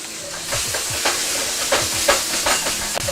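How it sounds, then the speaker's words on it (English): Food sears and sizzles in a very hot wok, a steady close hiss with repeated scraping stir strokes in an uneven rhythm, no talking. "especially if you're searing, you need that wok to stay super, super hot"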